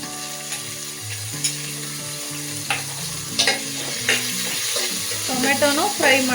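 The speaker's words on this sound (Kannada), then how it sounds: "ಟೊಮೆಟೊನು ಫ್ರೈ ಮಾಡ್ಕೋಬೇಕು." Tomatoes fry in a home-cooked paneer vegetable pulao pan, a steady sizzle broken by stirring clinks and scrapes, while a tonal musical background plays throughout.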